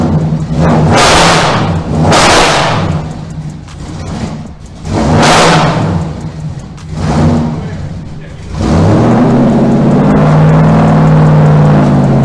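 Factory Five F9 supercar with a General Motors V8, its exhaust revving in several loud swelling bursts, then settling into a steady higher drone near the end.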